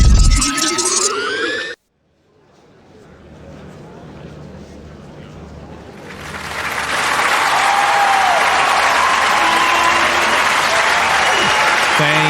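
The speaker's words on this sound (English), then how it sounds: "Thank you again for such loving applause." After a short burst of other sound and a moment of silence, applause from a lecture audience starts softly and swells into loud, sustained clapping from a sizable crowd.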